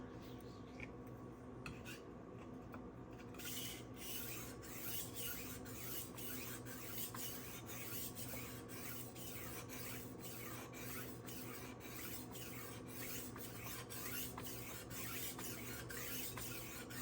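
A knife is sharpened on the stones of a SharpWorx Master 2 guided sharpener, a faint, steady rhythm of rasping strokes repeating roughly every second under a constant low hum.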